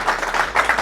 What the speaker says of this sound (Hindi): उस बात के लिए जोरदार तालियां बजाएंगे